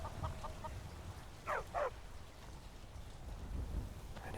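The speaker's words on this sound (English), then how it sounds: "Some chickens." Chickens clucking in a Skyrim town, a few short cluck bursts over a soft steady rain-like background, faint and somewhat distant, no voices.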